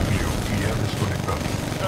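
Rapid gunfire from the Titanfall 2 shooter game, a dense continuous rattle of shots with heavy low-end booms, loud and steady throughout.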